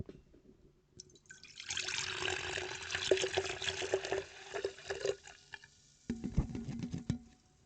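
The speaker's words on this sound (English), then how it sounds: "So, I'm going to pour this drink now." Ghost Warheads Sour Black Cherry energy drink poured into a glass, a close, fizzy, gurgling stream with crackling carbonation that runs for several seconds, stops briefly, then resumes with a lower splashing pour.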